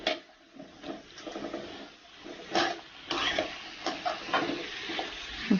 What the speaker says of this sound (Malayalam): സവാള നല്ലതുപോലെ വഴറ്റിയെടുക്കണം.